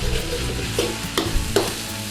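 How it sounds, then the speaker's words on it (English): Beef chow mein stir-fried in a hot pan, a constant sizzle broken by three quick scraping tosses spaced about half a second apart, loud and close with no voices. "Give it a little quick stir fry through."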